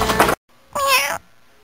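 A house cat lets out a single clear, close meow, preceded by a short burst of other noise and a brief silence.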